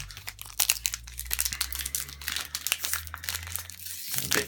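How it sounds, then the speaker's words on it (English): Crinkly tearing and crumpling of a well-sealed RSPCA pets and creatures trading card packet, a dense run of close crackling wrapper rustles lasting several seconds, with a low steady hum underneath. "Tricky to open there because they're packed really well"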